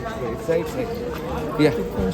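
A crowd of people at Chiplun railway station makes an indistinct babble of voices close by, with a nearby voice talking over the din.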